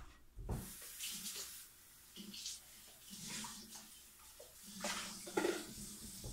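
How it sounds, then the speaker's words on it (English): A lye water container is rinsed under running water while making essential oil soap, with quiet bursts of splashing and gushing water separated by short pauses and a few light knocks. "Gonna rinse out my lye water."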